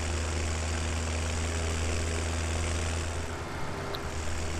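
A tractor engine idles steadily in Farming Simulator 17, a constant low rumble with a hum running unbroken and fairly loud throughout, no voices.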